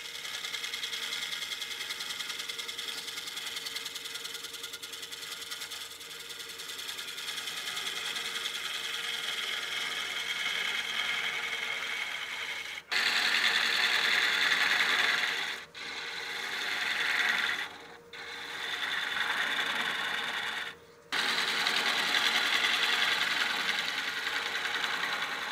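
A wood lathe cuts a decorative recess into a spinning workpiece held in a Longworth chuck, giving a steady broadband scraping hiss with several brief pauses and restarts in the second half, heard alone with no talk.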